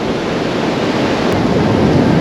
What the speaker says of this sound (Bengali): সাগরের এত আওয়াজ আজকে আর ঢেউগুলো তো বিশাল বিশাল